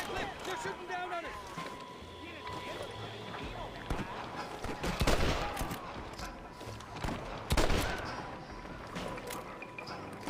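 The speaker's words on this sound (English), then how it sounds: "They're shooting down on us!" Scattered gunfire from enemies firing down from above in the Red Dead Redemption western game, a few sharp shots breaking through busy background game sound and loud voices.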